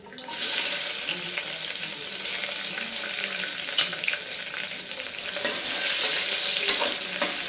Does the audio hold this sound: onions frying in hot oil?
yes